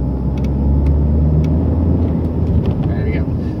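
A 2012 Vauxhall Insignia SRi with a 2.0 CDTI diesel engine drives along with a steady, muted low drone of engine and road rumble, and the turbo is barely noticeable under the continuous cabin noise.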